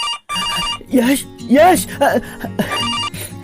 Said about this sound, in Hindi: अरे कब से फोन बज रहा है, फोन तो उठा लेते।